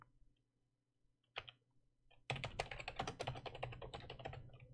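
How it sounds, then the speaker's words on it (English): Typing on a computer keyboard: a single isolated keystroke, then a quick run of rapid clicky key presses, close and fairly quiet over a faint background hum. "let's type in another comment"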